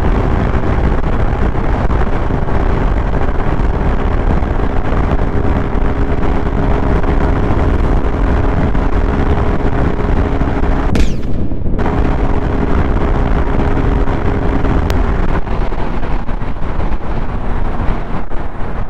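A Honda SP 160 motorcycle engine runs flat out at top speed, a loud, steady, sustained roar mixed with heavy wind rush, broken by one short dip before continuing unchanged.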